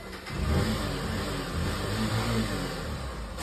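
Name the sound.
car passing by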